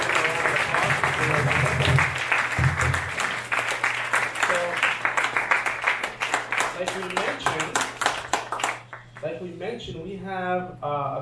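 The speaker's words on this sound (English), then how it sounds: "Let's give them a round of applause." Applause rises from a chapel audience at a school international day event as guests from Pickering are honored, dense clapping running steadily under a low hum, then thinning and fading near the end as a voice begins speaking.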